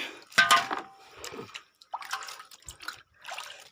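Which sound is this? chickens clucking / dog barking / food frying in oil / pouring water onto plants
pouring water onto plants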